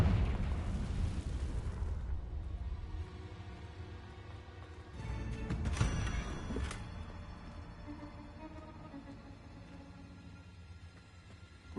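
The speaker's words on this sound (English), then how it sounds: "Confringo!" A Confringo spell blast in the video game Hogwarts Legacy, a loud low rumbling burst that decays over the opening seconds, then a second sharp bang near the middle with a crackling tail fading out.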